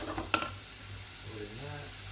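Celery, onions and carrot sauté in a pot for vegetable and lentil soup, giving a steady soft sizzle with one sharp utensil clink near the start.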